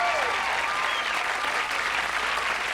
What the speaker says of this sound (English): That's way too much applause, really.